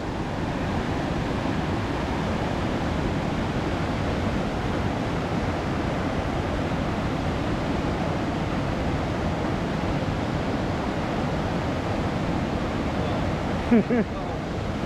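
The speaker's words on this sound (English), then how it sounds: "Incredible how much water's coming down here." A glacier meltwater stream rushes down a mountain gully during a summer tahr hunt, a steady, loud roar of churning water close to the microphone, with a brief knock near the end and no talking.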